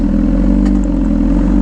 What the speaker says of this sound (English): now it sounds like it's idling better